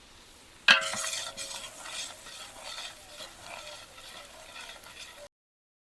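Onions fry in a pot for a village-style mutton paya, opening with a sharp metal clank and then a steady close sizzle with a spoon scraping and stirring, until it cuts off abruptly.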